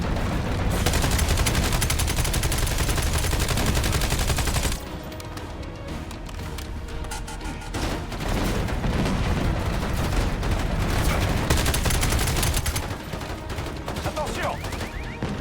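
Turret and weapon gunfire in the Black Ops 7 video game, dense rapid automatic bursts running loud and nearly continuous, with a brief lull and game audio layered underneath.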